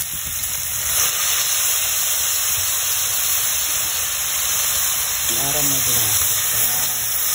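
Chicken sotanghon soup ingredients sautéing in a pan give off a steady, loud sizzle and hiss that runs throughout, with a voice speaking briefly near the end.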